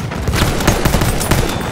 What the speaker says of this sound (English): anybody wanna meet the end of this rifle?